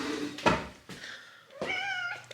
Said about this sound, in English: let me show you my cat